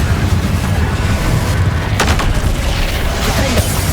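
Confringo blasting spell explosions in Hogwarts Legacy during a final showdown battle, booming blasts and crackling impacts layered over dense, continuous combat noise with several sharp bursts.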